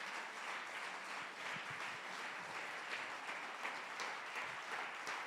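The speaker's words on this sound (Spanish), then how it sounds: "Dale un aplauso si le vas a alabar." A church congregation applauds together in a dense, even wash of clapping that holds steady from start to finish, fairly distant and without talk.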